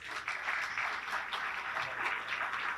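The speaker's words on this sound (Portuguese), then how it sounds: "mais uma salva de palmas aos nossos panelistas" Sustained audience applause for panelists at a conference panel session, a steady dense wash of clapping from a hall crowd with no speech over it.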